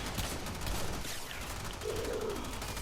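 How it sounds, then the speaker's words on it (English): Gunfire from the Kuva Hind rifle in Warframe, switched to semi-auto against a Grineer Heavy Gunner, sounding as a dense run of shots over busy game noise and effects. "We will now switch to semi-auto to take out this second."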